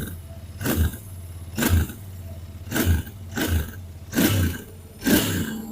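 Royal Enfield Continental GT 650 café racer, a parallel-twin motorcycle, revving through its exhaust in five or six short throttle blips at a steady rhythm, each a loud roar rising over the idle and dropping back between pulls, heard up close.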